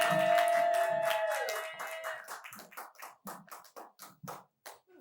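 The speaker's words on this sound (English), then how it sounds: "get the round of applause going. Get it going for Camille Solari." A small audience at a live late-night comedy show claps for an arriving guest, starting as a loud burst over a sustained tone, then thinning into a few scattered individual claps.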